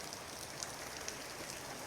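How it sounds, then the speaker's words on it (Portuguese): Water poured over roof tiles at a countryside bathing resort patters in a dense, even hiss like steady rain, faint and continuous with occasional brighter drips. "Água caindo na telha, não está chovendo, pessoal."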